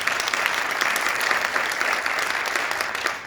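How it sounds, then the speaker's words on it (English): A town hall audience applauds a state legislator being introduced, a continuous, moderately loud patter of many hands clapping with no talk over it. "Can we give him a hand of applause?"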